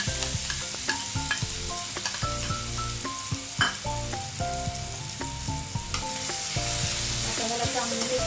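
Spice masala for vada pav potato filling sautés in a pan with a continuous close sizzle, punctuated by frequent stirring scrapes and clinks of a spoon on metal, with tuneful background music underneath.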